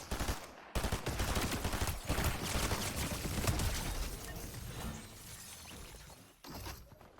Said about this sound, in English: In this clip, I fight a dude who's mainly shooting me with his tracer pistols, and I outgun him with a gray thunderburst